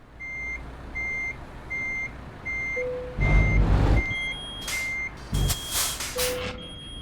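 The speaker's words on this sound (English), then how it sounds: "this air pressure thing does my head in. It takes forever. It beeps for absolute ages." Repeated air pressure warning beeps from a truck in Euro Truck Simulator 2, a steady string of short evenly spaced tones broken by two loud hissing air bursts and a few lower chimes.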